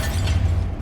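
An Expulso spell explosion in the Hogwarts Legacy video game: a brief, loud, deep booming burst with a rumbling low end, filling under a second.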